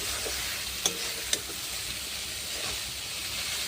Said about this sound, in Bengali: এবার দিয়ে ম্যাগিগুলো দিয়ে ভালো করে ভাজিয়ে নেবে